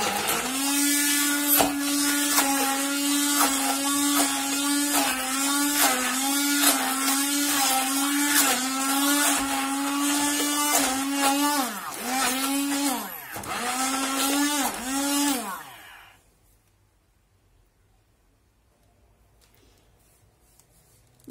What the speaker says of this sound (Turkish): Şimdi blenderla eziyorum.